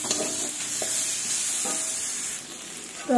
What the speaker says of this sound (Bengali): এবার এই আলুটার সঙ্গে এই মশলাটাকে ভালোভাবে কষিয়ে নেব একটু